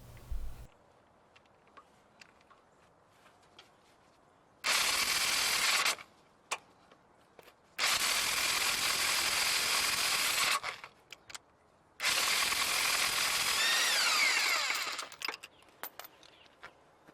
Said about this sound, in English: Now we can remove the 17mm center bolt.